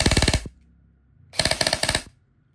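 An airsoft 416 rifle fires two full-auto bursts, each a rapid, evenly spaced string of loud, sharp cracks, separated by about a second of quiet.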